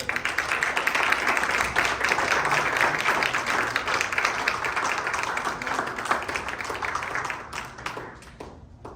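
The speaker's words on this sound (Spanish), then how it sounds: "Den un aplauso a la gloria de Dios" Church congregation applauding in praise, a dense, steady wash of many hands clapping at once that holds for several seconds, then thins and fades toward the end.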